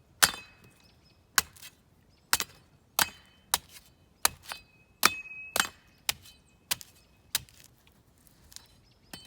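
A spoon edge strikes the corners of a coconut shell, about eleven sharp, woody knocks in an uneven rhythm, close and fairly loud, with a faint ring after some hits and no talking.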